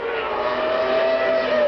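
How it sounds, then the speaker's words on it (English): A 1991 Williams Formula One car screams past at high speed down the front straight at the Canadian Grand Prix in Montreal, a loud, sustained high-pitched engine whine with a slight pitch drift. "Patrese fires down the front straightaway, 170 miles an hour or so"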